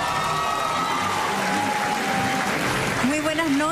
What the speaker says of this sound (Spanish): El aplauso para Consuelo Schuster y Andrés de León.